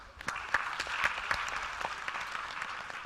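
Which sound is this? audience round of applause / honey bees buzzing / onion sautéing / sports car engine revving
audience round of applause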